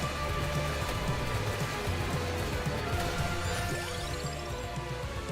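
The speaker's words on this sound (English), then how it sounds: "definitely the thunderstorm. The thunder out there is gonna come through." Rain falling outside during a thunderstorm, a steady dense patter on surfaces with a low rumbling undertone, continuous and even, heard beneath game music tones rather than alone.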